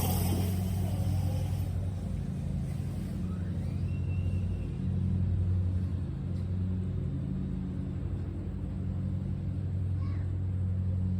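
A dirt bike engine rumbles steadily as the rider circles a house, heard as a continuous low drone that stays close and fairly loud the whole time.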